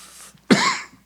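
A single short, harsh cough from a tired man during a sermon, close and fairly loud, preceded by faint breathy noise and followed by quiet.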